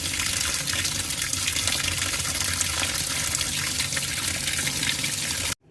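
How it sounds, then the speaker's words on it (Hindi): Clean tap water runs steadily over mutton liver in a sink, a loud, continuous close-up rush that cuts off abruptly at the end. "इसको हम साफ़ पानी से भी गुजारेंगे।"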